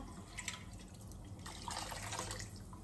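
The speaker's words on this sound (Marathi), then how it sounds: "आता विसळून टाकायचं गरम पाणी" Cooked moong dal being rinsed with hot water gives a steady wash of running, splashing water with scattered drips, moderately loud and close, with no talk.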